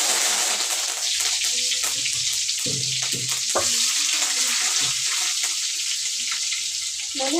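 Curry leaves and chopped tomato sizzle steadily in hot oil, a continuous close frying hiss with occasional stirring clatter and pops throughout.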